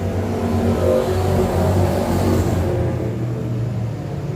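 Pro Stock race cars roar off at the green flag during a qualifying heat at Can-Am Speedway: a loud, sustained pack of engines accelerating together, with the upper edge of the sound easing off near the end.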